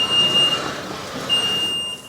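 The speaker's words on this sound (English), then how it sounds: "the beeping of forklifts," Two short series of high electronic forklift reversing beeps at a food bank warehouse, loud and steady, separated by a brief gap, over low engine rumble.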